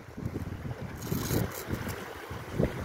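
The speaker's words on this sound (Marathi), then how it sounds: "आमची बोट आता आलेली आहे" A fishing boat out at sea, its low engine rumble mixed with wind buffeting the microphone and the wash of water, close and fairly loud with no talking.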